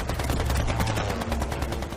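Rapid gunfire crackles in dense bursts of overlapping shots for about two seconds, loud and continuous like machine-gun fire, with no voices.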